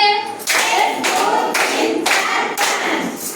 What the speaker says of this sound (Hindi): ताली मारिबो सेते मु कहबी जेते ताली मारिबो